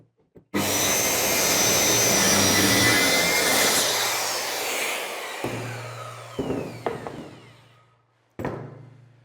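An electric saw cuts through flooring indoors, with a loud, sustained rasping run for several seconds that fades. A few short cutting bursts follow with pauses between them. No one speaks.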